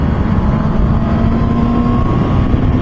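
A Honda CB650R motorcycle engine pulls steadily in fourth gear in the cruising part of the rev range, a loud continuous drone with wind noise and no talk.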